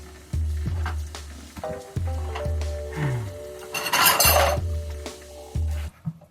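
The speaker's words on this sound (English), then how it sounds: "Let me just set these dishes up as I load my next thought." Dishes and cutlery clink and rub as they are set out, with repeated sharp knocks and a brief scraping rattle, close by and without speech.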